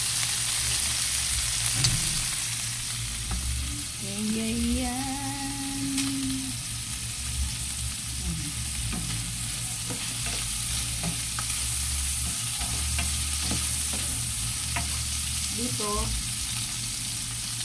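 Steady frying sizzle of chicken in a pan with occasional stirring scrapes, while a person speaks briefly over it.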